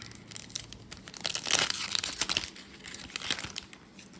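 A 2025 Topps baseball foil trading card pack, an Evergreen pack of die-cut cards, torn open up close, giving crinkly tearing and rustling that swells to a loud peak midway and then fades into softer handling.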